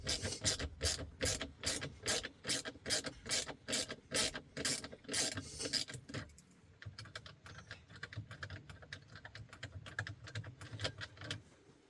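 A ratchet wrench spinning out 7mm bolts from the console of a 2011–2014 Ford Mustang, a fast regular clicking, loud and close, then after a pause a quieter, quicker run of clicks as the second bolt comes out.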